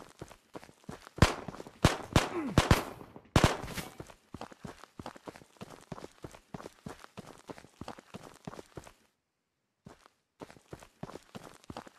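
Gunfire in the Tarkov VR game, heard as sharp percussive bursts, a dense cluster early on and then scattered single shots and impacts, with a brief silent gap near the end.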